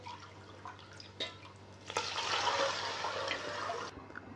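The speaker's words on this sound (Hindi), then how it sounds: "5 गिलास ये मैं पानी डाल दूंगा" Water poured into a cooking pot holding rice, a steady splashing pour that swells after a couple of seconds, runs on loudly, then cuts off near the end with faint background hum.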